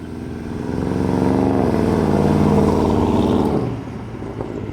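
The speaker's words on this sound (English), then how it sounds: "Oh, that exhaust is so tight." A Porsche Cayenne Turbo's exhaust swells as the lowered SUV makes a turnaround, rising to a loud sustained drone with shifting pitch, then easing off as it pulls away.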